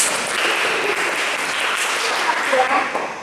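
A room full of young people at a church youth service claps along in a call-and-response clapping game, a steady wash of many hands with scattered voices mixed in.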